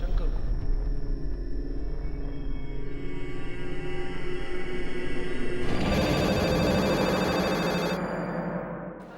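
A telephone rings electronically over a steady background rumble, the ringing growing brighter and denser midway before tapering off near the end.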